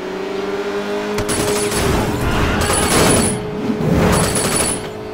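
A supercar resembling a Lamborghini drives in Sleeping Dogs, its loud engine roaring steadily under rattling bursts of gunfire and crashes. No one talks.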